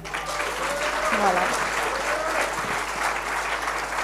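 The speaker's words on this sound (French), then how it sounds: "Ça s'applaudit." A dense, continuous wash of audience applause fills a seminar hall for a women's business coach, holding steady throughout while a voice speaks briefly over it.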